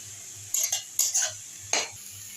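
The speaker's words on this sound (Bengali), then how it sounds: "তেলের মধ্যে এবারে বিট গাজরটাকে ভালো করে নাড়তে নাড়তে একটু নরম করে নিতে হবে" Grated beetroot and carrot stirred in hot oil in a pan, a utensil scraping and clinking against the metal in a few short separate strokes over a faint steady sizzle, with no talking.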